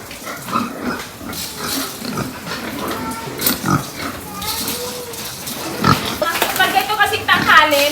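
Pigs on a pig farm grunt and squeal in repeated bursts close by, mixed with people talking over them.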